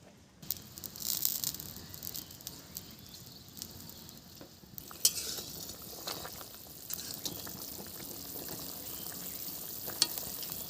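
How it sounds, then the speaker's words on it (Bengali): Rohu fish and drumstick curry cooking in a pot, a busy sizzling and bubbling boil with occasional clinks and stirring rattles, growing denser and steadier in the second half. "তরকারিটা ফুটে গেছে"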